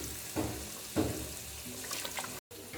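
Water poured from a glass into a pan of soaked amla cooking for an almond curry, a soft splashing pour with a couple of louder gushes, close and alone.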